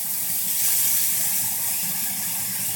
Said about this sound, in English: I've got my steak cooking at about half heat, since we've seared the sides and got that nice coating